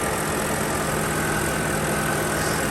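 A used BMW 3 Series E90/E92 engine idles with the hood open, a loud, close, steady mechanical drone with a constant hum and no breaks.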